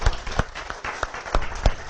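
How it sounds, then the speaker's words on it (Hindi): A handful of scattered hand claps from an audience opening a session, spaced irregularly and fairly close, lasting only a moment. "जोरदार ताली से शुरुआत करेंगे पुनः एक बार सेशन की।"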